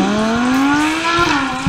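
Diecast toy cars race down a drag track while an engine-like whine climbs steadily in pitch, loud and close, ending in a brief burst of noise.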